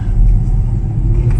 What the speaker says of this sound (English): right now we are test driving the car in the car park